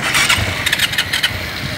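A motorcycle engine revs in short bursts in a Paris street at Porte Dauphine, rising and falling in loudness over steady background noise and traffic.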